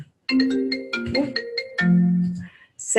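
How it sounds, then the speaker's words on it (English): A mobile phone ringtone plays a short melodic tune of clear tonal notes, close and loud, cutting off near the end as another sound begins. "my phone just rang"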